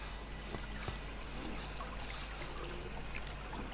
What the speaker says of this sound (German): Hier ist Wasser.